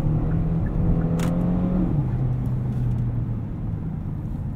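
A 2018 Genesis G80 3.3T Sport RWD under acceleration from inside the cabin, a low engine drone whose pitch climbs, then drops at a gear change and climbs again under road rumble.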